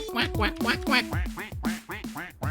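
Duck from the video game Friday Night Funkin quacking in a rapid series of nasal, honking calls, loud and rhythmic like a sung rap, with about ten quacks in quick succession.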